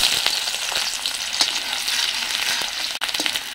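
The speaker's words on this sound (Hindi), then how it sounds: "हम प्याज का तड़का लगाएंगे" Onions for a tempering sizzle and crackle steadily in hot oil up close, with occasional clinks of stirring.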